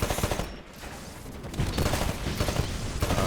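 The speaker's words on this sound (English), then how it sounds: "I really like the feel of the carbine and how it shoots." Carbine rifle fire in the first-person shooter Titanfall, loud rapid bursts of automatic shots crackling densely for several seconds with a short lull in between.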